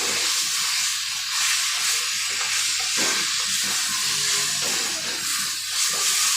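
Chicken with spices sautés over a high flame in Bengali-style cooking, giving a loud, steady sizzle and hiss with stirring scrapes throughout and no voices.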